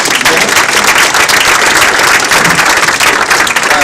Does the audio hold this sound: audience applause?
yes